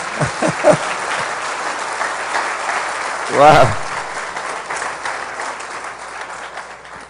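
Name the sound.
church congregation applause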